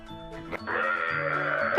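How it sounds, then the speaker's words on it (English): A sheep gives one drawn-out, wavering bleat that rises after a brief quieter call, fairly loud and close with no other sounds around it. "Sheep."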